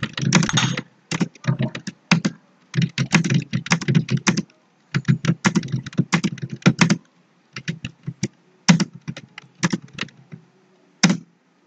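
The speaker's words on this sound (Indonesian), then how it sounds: "Kita coba ketik." Fast touch-typing on a computer keyboard during a ten-finger typing drill, dense bursts of close, crisp key clicks with brief pauses between runs, including spacebar presses, with no talking.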